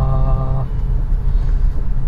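A 2016 Maruti Suzuki Swift Dzire VXI petrol car shifts into second gear on a village road, giving a steady low engine rumble and road noise from inside the cabin, with a brief tonal whine at the start.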